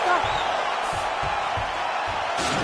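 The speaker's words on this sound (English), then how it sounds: "So the crowd voicing its appreciation after that round." An arena crowd in the video game UFC 4 roars and applauds after a round, a steady broad wash of cheering with a few louder swells, under a commentator's voice.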